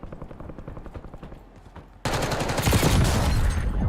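A video game sniper rifle goes off as a single sudden loud blast. It cuts through quieter rhythmic gunfire and turns into a dense, sustained roar of shooting and noise.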